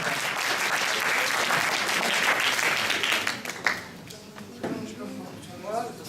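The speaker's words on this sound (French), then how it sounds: "Faut l'applaudir." Audience applause for a French talk: steady, dense clapping that tapers off after about three and a half seconds, followed by murmuring and a voice speaking.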